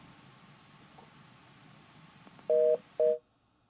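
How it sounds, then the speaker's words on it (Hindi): Telephone line tones after a dropped call-in on a Hindi live stock-market show: two steady beeps, close and loud, follow a quiet hum of low line noise, then the line goes silent. "फोन कट गया"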